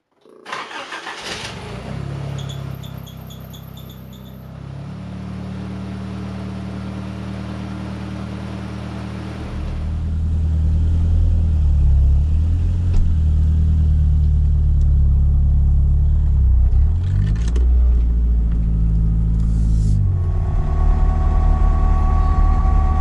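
A Nissan 200SX engine with a misfire cranks and starts, then settles into a loud, rough, steady rumble that grows heavier as the car drives off, with no voices.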